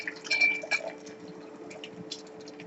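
Glass clinks and faint liquid sounds as 10% hydrochloric acid is poured a little at a time into a salt with a stir bar, a few light chinks over a steady low hum.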